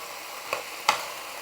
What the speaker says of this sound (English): Nice heaping spoonful of garlic. And now we'll stir this up.